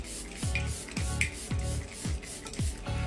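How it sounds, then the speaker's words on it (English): Quick bursts of fine matte setting spray hiss out onto a face in a steady rhythm, about five or six short pumps close by, each a soft misting puff. "So I'm going to give the face a nice saturate with some setting spray."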